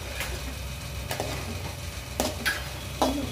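Ginger garlic paste fries in a pan for gongura chicken, giving a soft steady sizzle broken by several short clinks and scrapes of a spoon stirring it.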